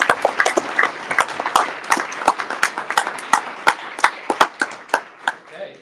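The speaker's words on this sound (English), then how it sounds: "let's give all of them, everyone a round of applause for gratitude." An audience claps at a winter benefit event for Bethlehem Farm, a dense burst of hand claps that thins out into a few scattered, separate claps toward the end.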